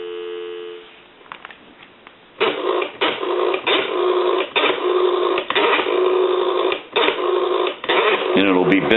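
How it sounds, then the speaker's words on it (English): Dial tone on an ITT rotary dial desk telephone heard over a phone line: a steady tone at first, then a long stretch of loud, choppy line sound broken by brief gaps, continuous and close. "give you some dial tone."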